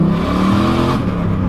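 A turbocharged LS V8 in a Holden Commodore SS revs hard and steadily up close, a loud, continuous engine roar with a rising and falling pitch and no talking.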